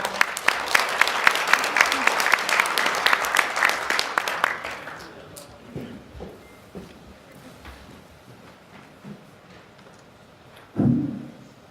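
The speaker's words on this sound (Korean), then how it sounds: "여러분 큰 박수로 맞이해 주시기 바랍니다" An audience at a blockchain seminar applauds to welcome a speaker, dense clapping for about four seconds that thins into scattered claps and dies away, followed by quiet room noise and a brief thump near the end.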